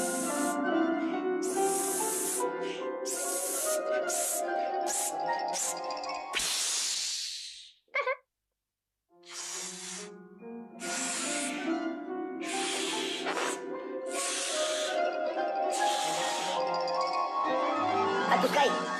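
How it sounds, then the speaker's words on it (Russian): A balloon is blown up in a 1969 animated Winnie-the-Pooh cartoon, with long breathy hissing bursts that repeat under music, then a squeaky escape of air and a brief pause before the music returns. "Надувай шарик."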